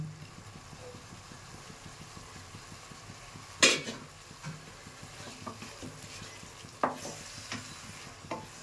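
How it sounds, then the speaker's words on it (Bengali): Spices, chopped tomato and coriander are stirred in a pan for pea ghugni, with a soft sizzle underneath and occasional sharp clanks of the spoon against the pan, close by and fairly quiet. "ভালো করে নেড়ে চেড়ে মশলাটাকে এবং ধনেপাতা কুচি এবং টমেটোটাকে মিক্স করতে হবে"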